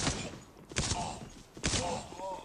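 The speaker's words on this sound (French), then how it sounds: "j'ai failli me faire allumer par un simple fusil" Rifle gunfire in the mobile shooter game Guns of Boom, several sharp bursts of shots with impacts, mixed with game effects, loud and close.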